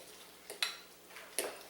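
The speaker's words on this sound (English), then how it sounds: "We'll stir it up, see how it looks." Crab dip mixture stirred with a utensil in a bowl, giving a few light scraping clinks and taps in quick bursts, close and quiet.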